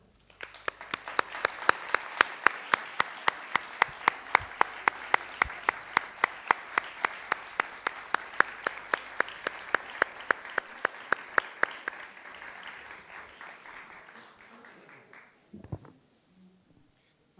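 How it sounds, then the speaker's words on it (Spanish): Audience applause at a talk fills the room with dense, steady clapping, punctuated by sharp regular claps from a nearby pair of hands, then dies away into near silence. "Aplaudid más fuerte, por favor."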